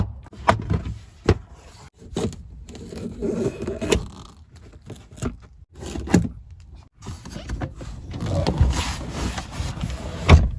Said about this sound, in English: we need to remove this forward piece of the deck board and pull those clips out